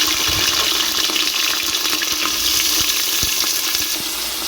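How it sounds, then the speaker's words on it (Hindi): Sliced onions sizzle and crackle in hot oil in a pan, a loud, steady frying hiss with occasional stirring clicks, no voices. "सारे प्याज मैंने तेल में डाल दिए।"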